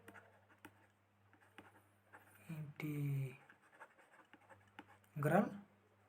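Pen or chalk scratching out math notes in a series of short strokes, faint and steady, with a voice talking over most of it in a classroom-style lesson.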